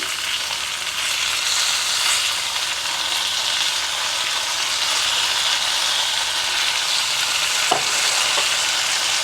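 Ash gourd curry fries in a pan and is stirred with a spatula, giving a continuous loud sizzle with occasional scraping strokes and no talking.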